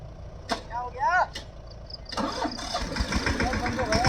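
A Yuvraj mini tractor engine gives a few sharp clanks and a whining crank, then catches into a rough, uneven rumble that sputters on under background voices.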